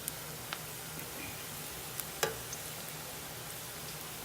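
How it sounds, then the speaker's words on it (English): Medu vada, urad dal fritters, fry in hot oil over medium heat with a steady soft hiss, broken by scattered sharp pops and crackles, one louder snap standing out, close and without talk. "The oil is in medium heat so that it will be cooked evenly inside also."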